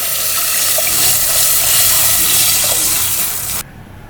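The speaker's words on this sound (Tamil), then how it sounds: "தண்ணி ஊற்றிக்கலாங்க." Water pours into a cooking pot of softened tomatoes for a Kongu-style rice and dal dish, a loud, close, steady gush lasting about three and a half seconds before stopping abruptly.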